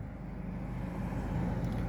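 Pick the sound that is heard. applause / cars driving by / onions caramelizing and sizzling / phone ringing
cars driving by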